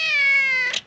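One long, loud, close meow from a cat, strongly harmonic and steady before breaking off with a brief rough edge at the end, heard alone without speech.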